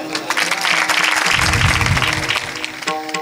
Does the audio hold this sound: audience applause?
yes